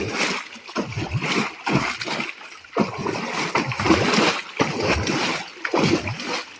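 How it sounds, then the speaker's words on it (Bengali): Water splashing and sloshing in bursts as singhi catfish are netted out of a biofloc tank, loud close churning swells with brief gurgling pauses between scoops. "এই নেট দিয়ে কিভাবে শিঙ্গি মাছ তোলা হয়"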